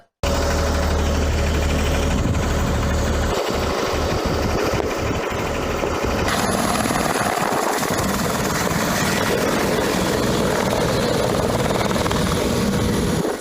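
An air ambulance at the domestic terminal of Thiruvananthapuram airport makes a loud, steady engine roar with a whirring drone that runs unbroken throughout and has no speech over it.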